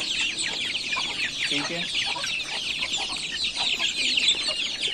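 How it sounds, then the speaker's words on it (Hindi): Young chicks cluck and cheep steadily while pecking at spinach leaves, a dense chorus of small high calls close by, with a brief spoken word. "मेरे चूजे लगे हुए हैं पालक के ऊपर"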